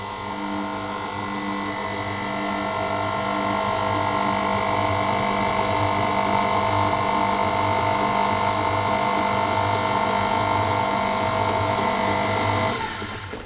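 Electric mixer steadily whirring as it blends plain flour, baking powder and salt for a Lazy Daisy cake, a loud continuous motor hum with a faint pulsing beat, running alone for about twelve seconds before winding down.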